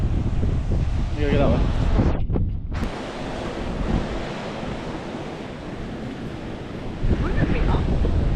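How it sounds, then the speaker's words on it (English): Strong gusting wind buffeting the microphone on a hilltop trail during a hike in Queensland, loud and roaring at the start and end, with people talking over it. "It's windy as."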